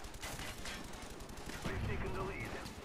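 Gunfire from an online Black Ops 1 match on PC, a steady run of shots layered under continuous game noise with a voice talking over part of it.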